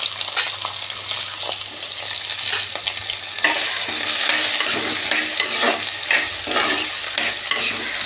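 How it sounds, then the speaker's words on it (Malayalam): Ivy gourd, eggplant, onion and green chilli sauté in hot oil in a pan, a loud, steady sizzle with repeated scraping stirs that grows denser partway through, and no talk. "ഇനി നമുക്കത് ചട്ടിയിൽ എണ്ണ ചൂടാക്കി കഴിയുമ്പോഴത്തേക്കിന് അതിനകത്തോട്ട് ഇട്ട് കൊടുക്കാം. ഇട്ടൊന്ന് നന്നായിട്ടൊന്ന് വഴറ്റി കൊടുക്കണേ."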